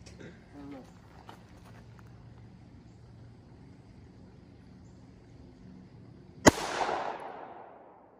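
A single loud gunshot at shooting practice cracks sharply near the end and rings out in a fading echo, after a stretch of quiet background with some voices nearby.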